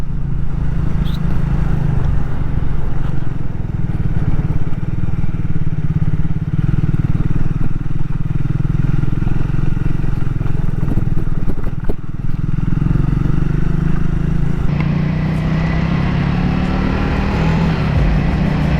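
A motorcycle engine drones steadily and loudly throughout, with wind and rattling as the bike keeps moving on a high, cold mountain road from Dharchula to Gunji near the India-China border.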